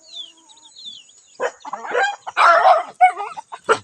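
Farmyard chickens near a rural Filipino vegetable garden, with a mother hen and a native jungle fowl heard as a short run of loud clucks and squawks after a quiet start, alongside faint chirps.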